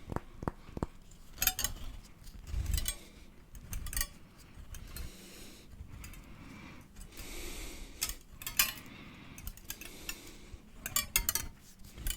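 Close, soft metallic clinks and light rattling come from a wire whisk handled for ASMR, arriving in uneven clusters of taps and jingles with quiet stretches between them.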